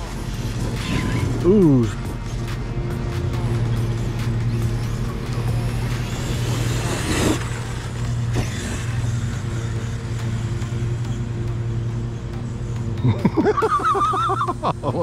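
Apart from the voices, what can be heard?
Kraton 8S EXB RC car at full throttle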